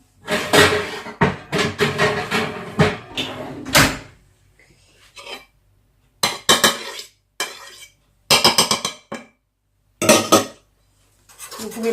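A spoon clatters and scrapes in a bowl in several bursts of quick strokes as bread pudding batter is mixed. Silent pauses separate the bursts.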